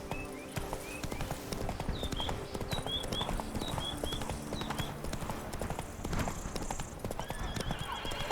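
Roach, the horse in The Witcher 3, gallops with rapid rhythmic hoofbeats, neighing repeatedly in short whinnies over the running clip-clop, moderately loud amid game ambience.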